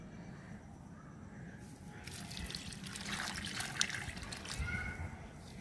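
Water poured over garden soil covering a buried lemon half near a plant's base, a faint trickling splash that swells after a couple of seconds and continues softly, heard alone.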